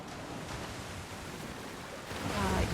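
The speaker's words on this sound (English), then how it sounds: "crashing waves" Ambient crashing-wave setting in an Elder Scrolls Online player house: a steady broadband surf wash, swelling louder near the end, with a faint voice faintly underneath.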